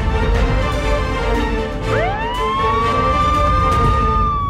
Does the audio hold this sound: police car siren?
yes